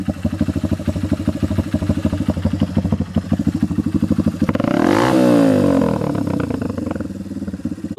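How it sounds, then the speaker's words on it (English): A Honda CRF150F trail bike fires up on electric start, its engine first chugging in a rapid steady pulse, then revving in a loud swelling burst before settling back to a brisk idle, close by. "one of my favorite things about this bike is that you just turn the key, electric start"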